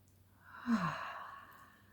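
A single slow, deep breath during a guided breathing exercise, a soft airy inhale and sigh-like exhale, close and quiet.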